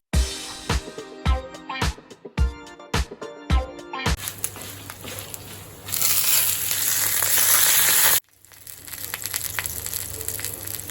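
Cumin seeds are tipped into a pan with a series of sharp taps and rattles, then a loud hissing sizzle of frying that briefly cuts out and resumes.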